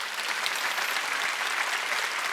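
A church congregation at a Wednesday worship service claps together in a sustained, even burst of applause that fills the room without pause.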